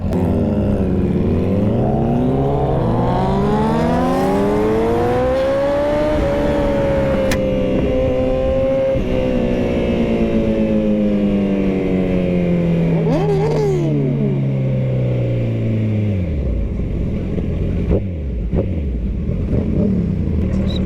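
A Kawasaki ZX10 motorcycle engine at a bike night rises and falls in pitch as it revs, with a steady, close, loud mechanical drone and harmonic sweeps over about twenty seconds.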